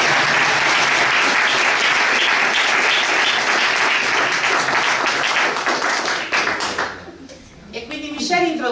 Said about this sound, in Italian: Un applauso per tutti questi ospiti.